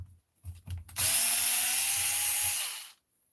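A power drill whirs steadily for about two seconds while backing screws out of RC car parts, preceded by a few soft handling knocks and ending abruptly.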